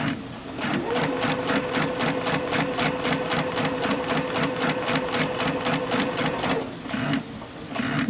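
A sewing machine stitches a seam in a fast, even run of rapid needle clicks that goes on for several seconds, slows briefly near the end, then picks up again; close and steady, with no talking.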